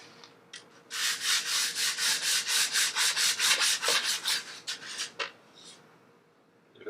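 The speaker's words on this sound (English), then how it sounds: "So let's begin to sand it a little bit." Rhythmic back-and-forth sanding of a burnt wooden guitar body using a wood sanding board, close and loud, about a dozen quick regular strokes that slow and fade toward the end, with no talking.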